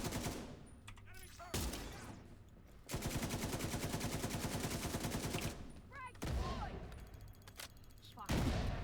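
Turret gunfire in The Division 2 video game, heard as loud, rapid automatic bursts with a few brief pauses between volleys, and a player talking faintly beneath the shooting.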